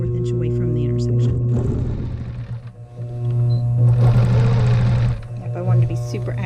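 A sewing machine hums steadily while machine quilting the Fiesta quilt, with two bursts of faster stitching, and a person talks over it.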